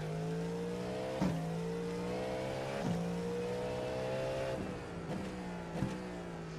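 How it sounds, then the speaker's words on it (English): Race car in the iRacing sim during IMSA/Daytona 24 testing, engine droning loud and steady through gear changes, with a pitch dip and climb at each upshift, alone without talk. "it's such a good sounding car"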